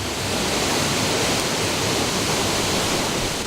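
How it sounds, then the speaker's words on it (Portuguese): A mountain waterfall about 80 metres high, falling in several cascades over the rocks of a serra, gives a dense, constant roar of rushing water, loud and close with no pauses. "A cachoeira se multiplica em outros pontos da serra, formando um harmonioso conjunto de quedas."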